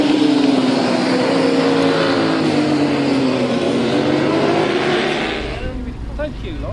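A fast race motorcycle's engine screams at high revs on the Darley Moor circuit during a track day, a loud, close, steady howl that drops away toward the end, with a voice heard over it.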